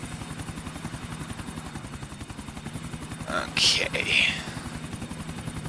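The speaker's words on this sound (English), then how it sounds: "so we're going to scramble the chopper for this." A police EC145 helicopter runs close by with a steady, rapid rotor chop throughout, near and fairly loud. A voice speaks briefly over it midway.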